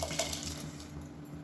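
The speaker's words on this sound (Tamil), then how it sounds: "இப்போ நம்ம ஊற வச்சுருந்த அரிசி, கடலைப்பருப்பு, பாசிப்பருப்பு தண்ணியோடு சேர்த்துக்கலாம்." Soaked rice with chana dal and moong dal tipped into a pot of boiling water, a brief close splash and watery patter with a faint clink, heard alone.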